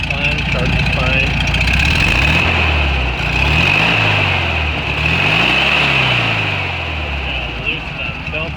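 A 1974 Volkswagen Karmann Ghia engine runs loud and close with a bad muffler leak, giving a deep, throaty low drone that rises and falls as the revs swing up and down.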